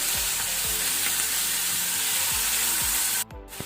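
Two tablespoons of ginger garlic paste fry in a pan for crab masala, producing a loud, continuous sizzle with soft rhythmic knocks from stirring and a brief dip near the end.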